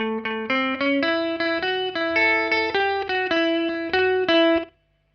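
A quick, bouncy run of overdriven electric guitar notes in a steady boogie rhythm, crunchy and close, ending abruptly in silence.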